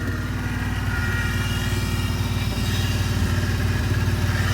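A Rolls-Royce engine with a slack belt runs loud and close, a constant rough idle with a pulsing low throb and a steady whine layered on top.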